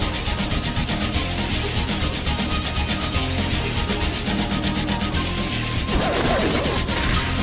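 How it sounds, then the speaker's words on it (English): A smashing blow lands during a battle in the Pokémon Battle Revolution video game, heard as a loud, dense crashing roar that runs steadily for several seconds. "A smashing blow."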